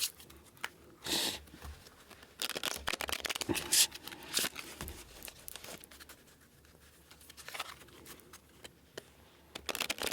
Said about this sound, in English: So I'm going to try to move these cards around for you as best that I can before we start